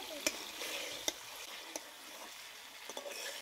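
Savory snacks being stirred into a cooked spice mixture in a pan: a soft, quiet sizzle under a few sharp, separate clinks of a spoon against the pan.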